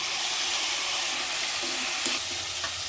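Tomatoes going into a pan of frying ginger for tomato rice set off a steady, bright sizzle, with a few soft stirring knocks and scrapes partway through and no voices.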